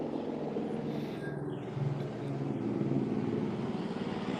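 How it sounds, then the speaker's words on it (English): A helicopter passes by outside a house, a steady low rumbling drone that swells slightly toward the end, heard alone without talk. "That's your helicopter."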